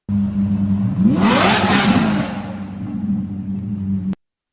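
A loud car exhaust revs up and roars steadily, the engine note rising then holding before cutting off abruptly.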